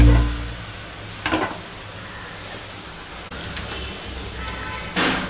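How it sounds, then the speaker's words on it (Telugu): Jaggery syrup cooks in a pan as a low, steady sizzle, with a few sharp utensil scrapes and clinks from stirring. "కొంచెం తీగ పాకం లాగా వచ్చే వరకు బెల్లం పాకాన్ని ఉడికించుకుందాం."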